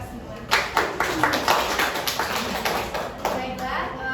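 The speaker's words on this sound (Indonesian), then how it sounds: "tepuk tangan untuk kita semua" A classroom of children bursts into applause, with scattered hand claps near and far over a steady murmur of young voices.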